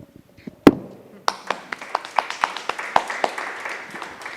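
After a sharp thump, a room of attendees at a Geneva Red Cross general assembly breaks into rhythmic clapping to elect the auditor by acclamation; the applause is quick, fairly close, and unaccompanied by speech.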